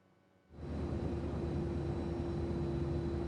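A steady airplane engine drone heard from inside the cabin in GTA San Andreas on PS2, swelling in abruptly after a quiet start and then holding a constant loud hum with a tonal whine.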